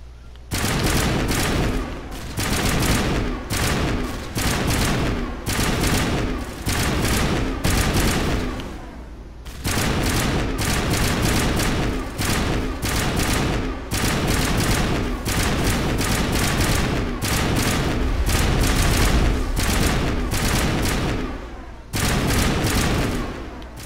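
Rapid bursts of gunfire with explosive rounds in the video game Mass Effect, dense rattling volleys with only brief gaps, loud and sustained, with faint voices mixed underneath.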